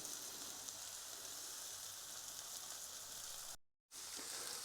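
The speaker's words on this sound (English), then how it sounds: "That sizzling" Pork and leek sausage sizzling in a hot pan, a steady hissing crackle throughout with one brief dropout near the end.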